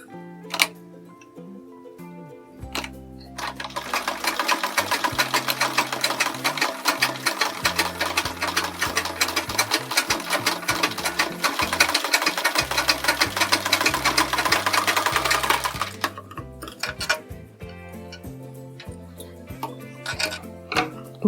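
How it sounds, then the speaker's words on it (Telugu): A sewing machine stitches a sleeve in a long, continuous run of rapid, close mechanical ticking and whirring. Short bursts of stitching come before and after the run, with a rhythmic clatter. "తర్వాత ఇది ఎక్కడైతే ఉందో అక్కడ ఓ స్టిచ్ వేసుకోవాలి."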